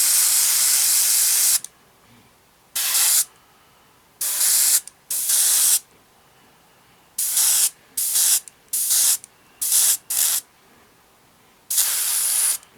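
An aerosol spray can sprays aluminium paint onto a 1/32 Wingnut Wings RE.8 scale model in about ten sharp hissing bursts. Some bursts are long and others short, with quiet gaps between them.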